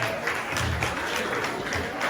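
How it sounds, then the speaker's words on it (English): A room of guests claps for the models at a combined fashion show and birthday party, with dense, steady applause and a few louder hand claps standing out close by. "All the beautiful models in the fashion show, round of applause"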